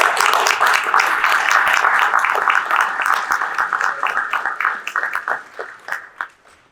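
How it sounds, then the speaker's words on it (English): An audience applauds James from Stop the Spray at a glyphosate tour talk, a dense, sustained burst of many hands clapping that thins out and fades toward the end, with no voices over it. "if we could all give a round of applause to James from Stop the Spray"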